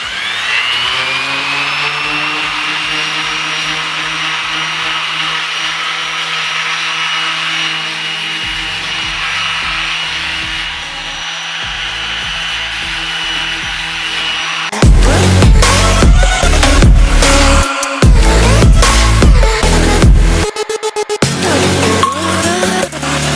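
Continuous loud whir of a dual action sander grinding against a Lexus LS400 surface while shaving the license plate area, its tone shifting partway through as pressure and contact change; no talking.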